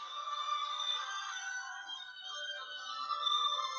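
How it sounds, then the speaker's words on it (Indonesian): A phone rings with a steady, warbling electronic tone that continues without a break for several seconds, fairly loud and heard on its own with no talking. "Tunggu dulu, saya angkat telepon dulu."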